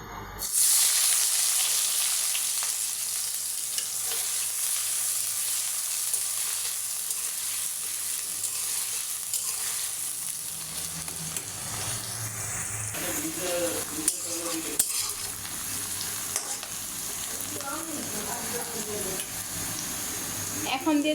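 Onion hitting hot oil in a wok already holding dried chilies, a loud sharp sizzle at first that settles into a steady frying hiss, with stirring clatter and a few faint words later.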